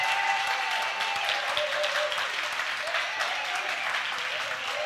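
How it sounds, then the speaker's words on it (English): A church congregation applauds during a sermon with dense, continuous clapping that holds steady throughout at a moderate, somewhat distant level. "And you should applaud your neighbor's success right now in Jesus' name."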